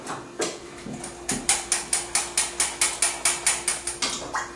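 A gas stove burner being turned on: a steady series of sharp mechanical igniter clicks, about a dozen evenly spaced ticks, fairly close and moderately quiet over a faint background hum.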